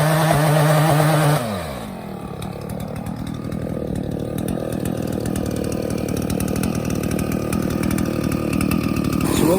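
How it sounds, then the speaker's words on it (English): A Sawzall reciprocating saw with a sharp blade cutting through thick tree wood at a farm, a loud close motor that starts with a high whine, then bogs into a rough, buzzing, continuous cut. "for the very thick pieces of wood, a nice sharp Sawzall blade"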